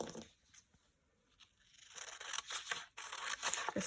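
Scissors trimming the paper margin of a printed PDF Christmas stocking sewing pattern page, close crisp snipping cuts that grow louder and quicker toward the end after a brief lull.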